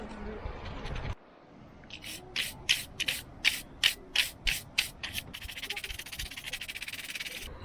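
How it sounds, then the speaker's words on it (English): Dust is brushed off a circuit board from a Yanmar mini excavator in a run of about ten short, rhythmic scrubbing strokes, close up, after a brief voice at the start. "I'll see if I can clean all that dust off"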